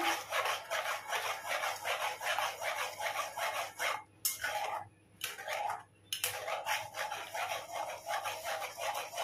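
Powdered milk is stirred into hot water for a chhana and mango sweet, a steady scraping and rubbing of a utensil against the pot in quick repeated strokes with a few brief pauses, close and alone.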